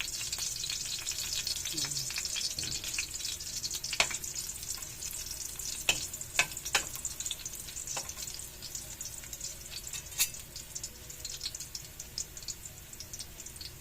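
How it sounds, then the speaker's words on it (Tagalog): Garlic sautéing in a hot pan for pancit, a steady sizzle and fry with occasional sharp clicks of a utensil stirring against the pan, close and continuous with no talking. "Yung bango ng bawang pag igisa."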